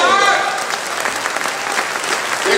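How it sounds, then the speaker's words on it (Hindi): Audience applause fills a Hindi poetry recital hall, a dense, steady wash of many hands clapping at close range for the whole stretch, with a brief voice faintly audible at the start. "आपकी तालियां बहुत मिल रही हैं"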